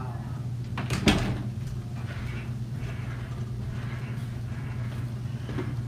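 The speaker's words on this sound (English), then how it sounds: "I think I'll go close his door" A bedroom door is pulled shut with a single sharp thud near the start, followed by a muffled steady hum in the room.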